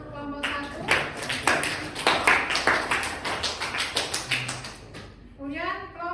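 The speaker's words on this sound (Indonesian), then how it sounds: "beri tepuk tangan untuk kelompok 1" A classroom of students applauds a presenting group, a burst of brisk overlapping claps lasting several seconds before fading, with voices speaking briefly before and after.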